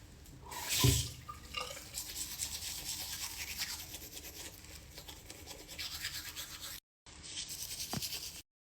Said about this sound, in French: je vais commencer par me brosser les dents.